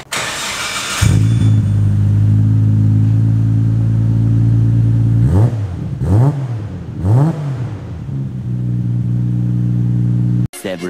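A Nissan R32 GT-R engine starts, settles into a steady, loud idle, then is blipped through three sharp revs that rise and fall before it cuts off; recorded close up.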